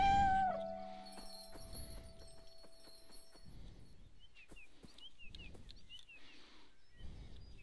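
Soft, high meows from the cat in the video game Beyond Eyes come in a short series of small calls over the later half, with gentle footsteps and a chime-like game tone earlier.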